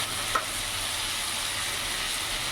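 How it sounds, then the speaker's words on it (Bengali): Ginger, green chili and garlic pastes sizzle and fry in a pan for a silver carp curry with potato and eggplant, a steady loud hiss with one brief stirring scrape near the start. "এবার ভালো করে নাড়াচাড়া করে আমি কষিয়ে নেব।"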